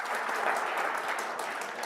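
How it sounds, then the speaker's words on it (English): A convention audience claps steadily, a dense, moderately loud patter of many hands that holds at an even level throughout the short stretch. "Give him a big round of applause for being our second hot seat."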